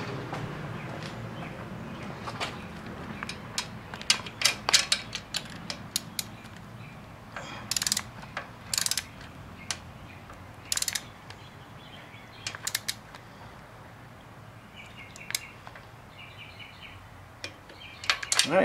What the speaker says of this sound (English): Let's torque this center one.